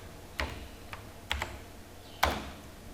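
A few separate keystrokes on a Windows 10 PC keyboard, spaced unevenly over a quiet room with no one speaking.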